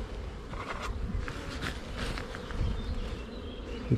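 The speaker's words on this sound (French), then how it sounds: "Quand il fait plus chaud, il y a beaucoup plus d'abeilles." Honey bees buzz densely around stacked hive supers during a honey harvest, a continuous close swarm drone with individual bees flitting past, steady and unbroken, no talk.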